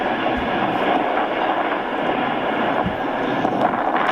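An airliner's engines roar steadily in a broad, continuous rush during takeoff from runway 21 at Perth, loud and sustained with no voices.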